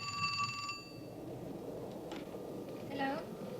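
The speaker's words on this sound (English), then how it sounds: "Mary Meredith of Oklahoma City recreates the night she purportedly received a phone call from the dead." A telephone bell rings at the start of a reenacted phone call, a bright metallic trill that stops after about a second, followed by a brief ringing chirp later over a low background hum.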